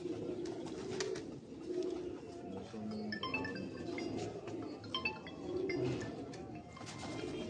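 Rooftop pigeons coo in repeated low, rolling phrases, fairly close and steady, with faint chirps, clinks and a murmur of distant voices in the background.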